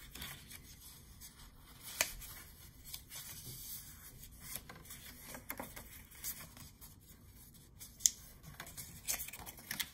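Scissors snip through paper while a traveler's-notebook planner pocket is cut out, a steady close run of crisp little cuts and rustles with a few sharper snips standing out, no talk over it.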